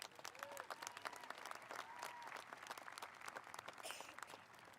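Sustained crowd applause at a high school graduation ceremony, many hands clapping in a dense, even wash heard from a distance, with faint voices mixed in.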